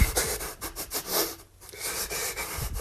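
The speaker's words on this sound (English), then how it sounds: "That's the sound of me having a panic attack." Rapid, ragged breathing during a panic attack: quick, noisy inhales and exhales in an uneven rhythm with a brief pause midway, close and breathy, with no speech.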